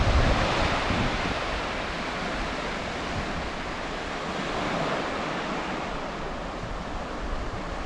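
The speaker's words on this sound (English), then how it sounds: "We have the ocean." Steady roar of ocean surf on a Normandy beach with sand dunes and bluffs, continuous broadband wash with slight swells and some wind, no voices.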